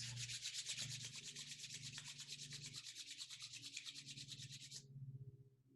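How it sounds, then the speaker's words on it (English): Palms are rubbed briskly together during a yoga session, a close, rhythmic hiss of skin on skin in rapid strokes that stops abruptly near the end. "Rub your palms."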